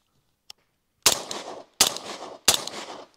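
A 30 caliber rifle fitted with a Surefire 7.62 Mini suppressor fires three suppressed shots in quick succession, each a loud sharp crack with a short decaying tail, after a faint click.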